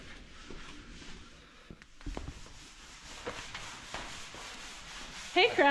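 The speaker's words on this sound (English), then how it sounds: "Sanding away." Soft, steady rubbing of sandpaper on a surface, faint and continuous, with a brief louder scrape near the end.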